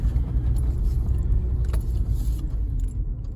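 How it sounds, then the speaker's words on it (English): A Holden VY Commodore engine rumbles steadily up close with a faint jangle of keys, the car pulling out onto the road at low speed. "So I'll just pull out onto the road."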